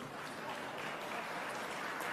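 An audience clapping during a Telugu morning political talk programme, a continuous moderate wash of applause without pause or voices.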